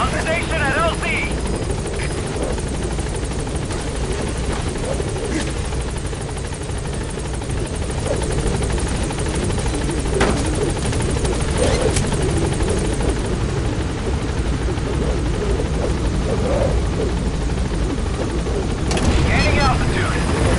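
Pequod transport helicopter from Metal Gear Solid 5 arriving at a landing zone, its steady rotor roar loud and continuous throughout, with game radio voices talking over it.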